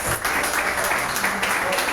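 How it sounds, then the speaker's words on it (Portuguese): A Pentecostal church congregation applauds during a Sunday service, with dense, steady clapping that stays close and loud and fills the whole moment without a break. "Pode se assentar, aplaudindo ao Senhor"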